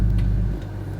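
A supercharged Lexus IS 350 F Sport with an XFORCE Varex exhaust idles with a deep, loud, low rumble heard up close behind the car. The rumble is steady and shifts slightly in tone partway through.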